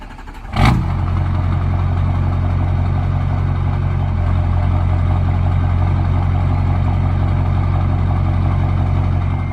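Jeep Wrangler on budget build with new tires driving along a road, a steady low engine and road drone continuing throughout after a brief thump near the start, no talking.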